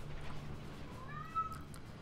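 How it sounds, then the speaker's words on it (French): A single short cat meow rises faintly over a low, steady background rumble. "Mon chat incroyable, hein."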